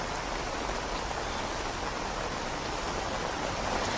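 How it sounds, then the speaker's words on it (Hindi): Heavy, continuous rain pours steadily over Delhi's busy Lajpat Nagar area, a dense, unbroken hiss with no pauses or voices. "बिल्कुल लगातार बारिश का सिलसिला जो है वो दिल्ली में देखने को मिल रहा है"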